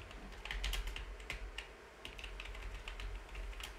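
Rapid clicking of computer keyboard keys as an accounting narration is typed into Tally ERP 9, irregular close bursts of keystrokes with no talking.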